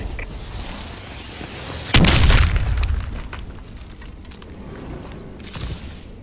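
A missile strike explodes in a first-person shooter capture-the-flag match, a loud sudden boom with a low rumbling tail that fades over a couple of seconds amid quieter game ambience.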